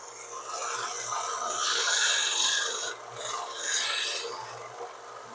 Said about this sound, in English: I'm mainly sanding this side down because when I fold it